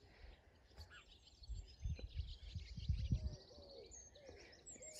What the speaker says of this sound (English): Leave you listening to the birds.